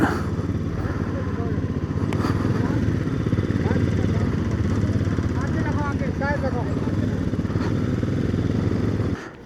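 A Royal Enfield Himalayan 411 motorcycle idles at a police checkpoint in Ladakh, its single-cylinder engine giving a continuous close, loud, chugging thump while a person talks over it.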